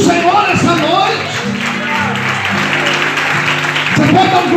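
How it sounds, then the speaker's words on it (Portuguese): A church congregation claps and cheers during a service, a dense wash of applause running throughout, overlaid by sustained sung or shouted voices. "Você pode dar glória a Deus e aplaudir ao nome do Senhor essa noite."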